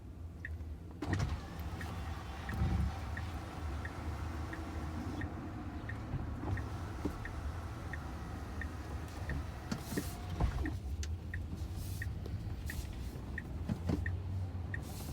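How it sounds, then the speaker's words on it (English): A Tesla sunroof motor whirs steadily inside the car, a thin regular mechanical ticking running through the whole stretch over a quiet cabin hum, with a couple of soft knocks. "Sunroof."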